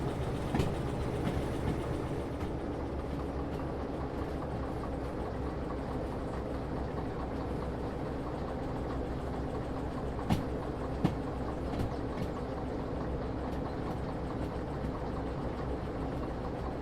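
A train rolls steadily along rails in the Derail Valley simulator game, a continuous mid-level rumble with a couple of sharp clanks near the end and no talking.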